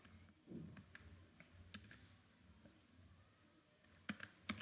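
Typing on a computer keyboard while writing HTML code, a scattered run of quiet key taps at an uneven pace, close and faint, with a few sharper clicks near the end.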